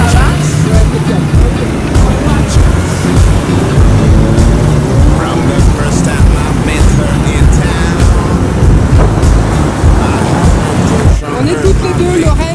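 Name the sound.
riding a motorcycle through Ouagadougou traffic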